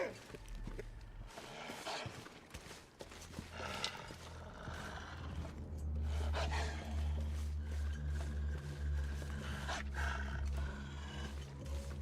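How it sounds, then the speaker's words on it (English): A bear roaring in the video game The Long Dark in Pleasant Valley: a low, drawn-out growling roar rumbling through the latter half, with someone talking over parts of it. "Oh, that's a bear right there."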